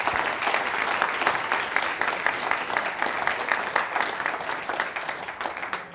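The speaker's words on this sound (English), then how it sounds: "A round of applause for our judges again." An audience at a science communication competition final applauds steadily, a dense wash of many hands clapping that holds throughout and fades slightly at the end.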